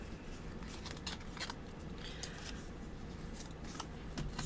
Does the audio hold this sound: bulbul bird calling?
no